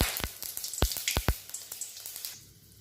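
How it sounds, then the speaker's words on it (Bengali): Bay leaf, dried red chilli and panch phoron dropped into hot oil for tempering, sharp crackling pops in a rapid irregular series over a continuous sizzle, close and loud, easing off at the end. "তেলটা গরম হয়ে গেছে, এবার আমি ফোড়নগুলো আস্তে আস্তে দিয়ে দেবো।"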